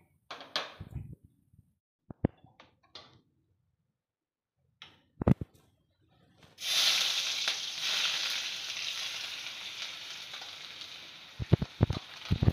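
Onions hit a hot pan for a potato, brinjal and shrimp bhaji and burst into loud close sizzling, a sustained hiss that slowly fades, preceded by scattered clicks and knocks of utensils.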